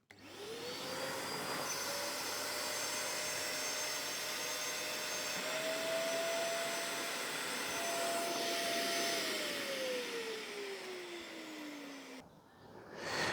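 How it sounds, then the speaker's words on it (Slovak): A Parkside PWS 20 wet vacuum cleaner draws up water with a steady, loud suction roar and a rising whine that shifts in pitch before winding down near the end. "Donesem ešte ďalšiu a uvidíme, kedy sa vysávač zastaví."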